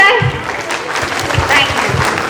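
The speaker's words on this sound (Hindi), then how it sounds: "आपकी तरफ से तालियां हो जाए" Wedding guests clap in a short burst of applause, a moderately loud crowd of hands close by, with a voice talking over it.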